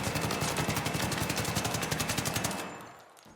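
Rapid automatic weapon fire from a gun build in the shooter game ARC Raiders, a fast even burst of close, loud shots lasting over two seconds before cutting off into a short fading tail.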